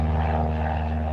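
A propeller plane at Moorabbin Airport drones loudly and steadily nearby, its engine hum constant throughout.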